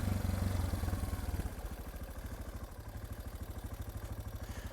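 A Suzuki DR650 motorcycle rides along a muddy dirt trail, its single-cylinder engine thumping in a steady, rapid pulse close by after a brief louder rev at the start, with no talk.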